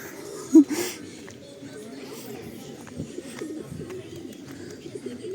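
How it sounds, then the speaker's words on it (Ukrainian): Pigeons coo in a soft, continuous low murmur, with a brief louder sound near the start and a hushed backdrop. "Голуби."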